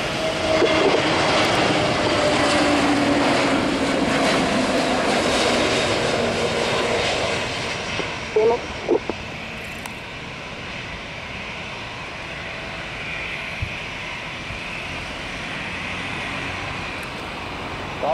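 A fixed-wing airliner's jet engines roar at Salvador airport during takeoff or landing, loud at first and then easing to a steady, more distant drone, with a few faint clicks partway through.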